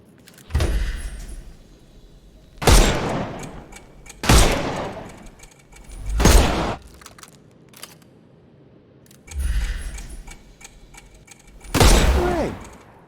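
Bursts of gunfire from the detective game Sherlock Holmes Chapter One, about six sharp, loud volleys each followed by a short ringing tail, spaced a couple of seconds apart with near silence between.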